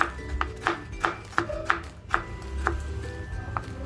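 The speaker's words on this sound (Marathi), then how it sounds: "कांदा आणि टोमॅटो असं छान आपल्याला बारीक करून घ्यायचे" Onion and tomato are finely chopped with a knife on a board, giving a quick, slightly irregular series of crisp close taps with no talking.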